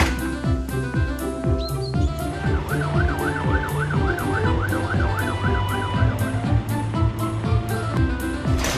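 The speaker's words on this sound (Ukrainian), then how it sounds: "У пожежної машини є висувні сходи, водяна гармата, проблискові маячки і гучна сирена" A fire truck siren wails in a rapid, rising-and-falling pattern, loud and close, over rhythmic thumping and other clattering sounds.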